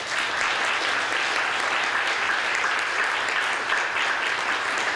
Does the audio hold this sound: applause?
yes